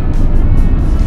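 Inside a Tata Nexon EV electric SUV accelerating hard in sport mode on an open road, a loud, steady roar of road and wind noise fills the cabin with no engine note.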